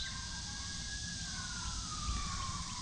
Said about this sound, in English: A lot of police sirens today.